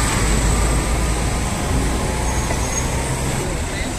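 Cars and buses moving along a busy Istanbul street, a continuous loud roar of engines and tyres close by with a low rumble underneath, while someone talks over it.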